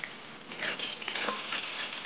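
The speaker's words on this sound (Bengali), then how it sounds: "এবারে ডালের বড়িগুলো তেলটা ভেজে নেবো।" Brief crackling sizzle of small dried lentil dumplings frying in oil in a wok, close and moderately loud, with light spattering and no talking.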